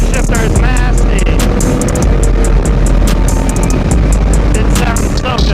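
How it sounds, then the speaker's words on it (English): A street motorcycle with a quick shifter revs hard in bursts, with quick rising engine sweeps cutting in and out under heavy wind rumble, close and loud, with voices faintly in the background. "Oh, that quick shifter is nasty."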